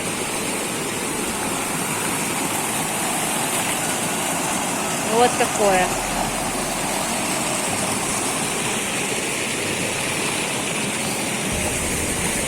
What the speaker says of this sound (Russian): И еще последний водопад уже на сегодня. Называется Казаковский.